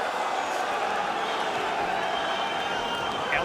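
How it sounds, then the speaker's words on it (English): A boxing arena crowd before the Algieri vs Khan fight keeps up a steady, dense roar of cheering and chatter, with no pause, and voices mixed through it. "The crowd is electric in here"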